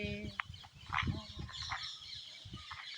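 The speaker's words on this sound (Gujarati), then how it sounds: "અને આ મસ્ત ચકલાનો પંખીનો અવાજ જે આવે છે" Birds call in open natural countryside, several short clucking, chirping notes from fowl-like birds sounding close by, scattered irregularly over a quiet outdoor background.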